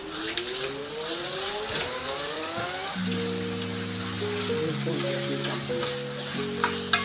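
Tomatoes fry in a spiced tempering with a continuous close sizzle and crackle. Melodic background music with sustained tones plays over the frying throughout.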